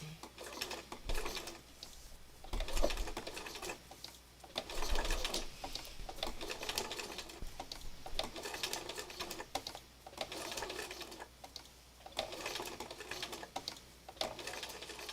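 A sewing machine stitches a spiral on fabric in repeated bursts of fast, rattling needle clatter, pausing briefly between runs, heard close and fairly quiet.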